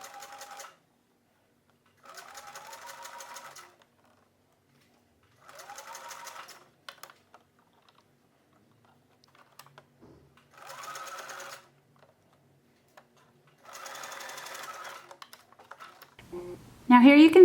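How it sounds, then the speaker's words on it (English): A sewing machine straight-stitching binding around a knit tee neckline runs in five short bursts with pauses between, close and clear, and a voice briefly begins speaking at the end. "I'm just gonna go around the entire neckline edge using a straight stitch."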